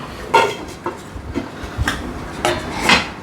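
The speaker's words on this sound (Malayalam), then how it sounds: "പാത്രം അടയ്ക്കാം." A lid is set onto a cooking pot for chicken curry in a home kitchen, giving a few light metallic knocks and scrapes spread over a few seconds against a steady low background hum.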